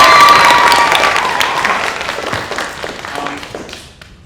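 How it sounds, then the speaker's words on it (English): A school theatre audience applauds the production crew, loud sustained clapping from a full house with faint cheering, gradually thinning out and fading to quiet at the end. "You can clap for these people."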